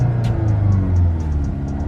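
A warmed-up 2021 Mk8 Volkswagen Golf GTI idling in normal mode, giving a steady low engine hum with a faint ticking over it, close and unchanging.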